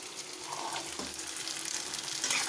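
Potato, cauliflower and carrot pieces frying in a pan, giving a continuous, fairly quiet hiss with light stirring scrapes and small crackles throughout.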